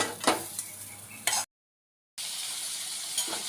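Loud, steady sizzling of hot oil tempering poured onto cooked greens, with a few clinks of a pan and a sudden drop to silence before the sizzle resumes.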